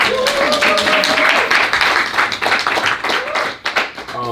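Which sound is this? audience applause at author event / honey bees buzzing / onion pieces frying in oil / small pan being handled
audience applause at author event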